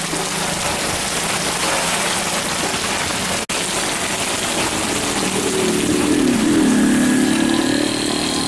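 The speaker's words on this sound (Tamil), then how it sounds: "நேற்றிரவு திடீரென சூறைக்காற்றுடன் மழை பெய்தது." Heavy rain falls during a sudden night storm with strong winds in Puducherry, a loud, dense, continuous hiss of rain on surfaces with a low engine-like rumble mixed in.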